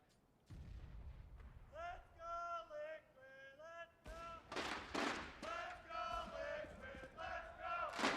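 An esports arena crowd cheers and roars during a CS:GO match, the noise surging in waves with a caster talking over it and game gunfire cracking in the mix.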